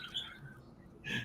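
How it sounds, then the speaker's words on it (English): A pet bird chirps in short, faint bursts indoors, quiet and close, with no one talking over it. "I hear the bird. He's going off, dude."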